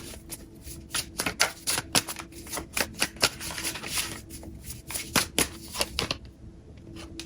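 Tarot cards shuffled and drawn, a rapid run of crisp close riffles and slaps in uneven bursts, then a short pause near the end.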